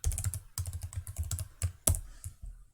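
Typing on a computer keyboard in quick bursts of close, crisp keystrokes, broken by short pauses, with a single sharper tap near the end and no voice.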